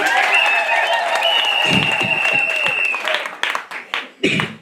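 A church congregation at an Easter Sunday service applauds the children, a fairly loud wash of clapping that thins into scattered claps as someone begins speaking.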